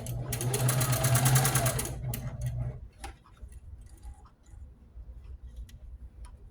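Sewing machine stitching a Jeep-themed quilt runs in a fast, steady mechanical whir for about two seconds, then stops, leaving a few faint clicks and handling sounds nearby.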